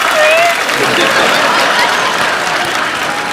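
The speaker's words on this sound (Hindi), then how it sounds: "ठोको ताली।" Studio audience applauding on a comedy talk show set, a dense, steady wash of clapping that stays loud and even throughout, with faint cheers or voices mixed in.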